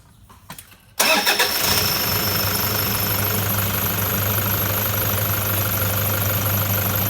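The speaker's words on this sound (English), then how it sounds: "Okay, so first let's get the engine started." A car engine with 180,000 km on it and a suspected cracked piston cranks briefly, catches with a sudden loud burst, then settles into a steady, rough idle with a persistent low hum.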